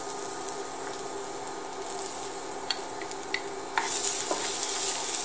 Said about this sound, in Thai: เจียวกระเทียมไปเรื่อยๆนะคะให้กระเทียมสุกสักพักนะคะ